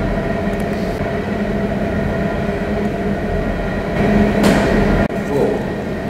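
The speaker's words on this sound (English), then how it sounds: "So the last train that passed by." A loud rumbling train passes near a former saloon in Columbus, Texas, a steady roar with a sharp clunk near the end; faint voices can be heard underneath.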